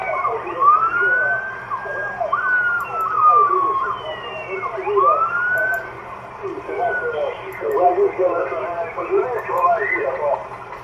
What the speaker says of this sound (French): j'entends la sirène de la police